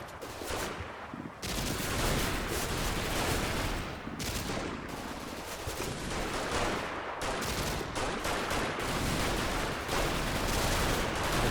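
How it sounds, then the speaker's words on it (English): Machine gun fire in the WWII game Combat Mission: Battle for Normandy, a dense, continuous roar of overlapping automatic bursts and crackling shots, loud and sustained with brief lulls. "Oh, machine guns."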